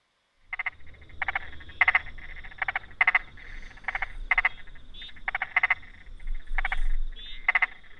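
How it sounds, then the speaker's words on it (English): Frogs croak in a small pond scene, a steady series of short pulsed calls repeating at an irregular rhythm, close and fairly clear against a quiet low background. "we now have a frog audio clip within our small pond"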